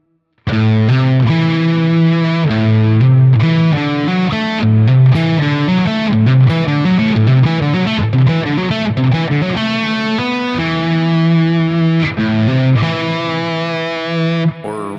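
Heavily distorted electric guitar, hybrid picked, rolls through quick cascading note patterns, bright and dense, loud and up front for the whole stretch.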